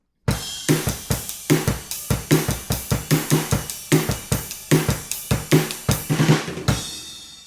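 Drum kit groove with snare and tom fills, a steady run of close, punchy kick, snare and tom strokes with crash accents, ending on a ringing cymbal, played alone.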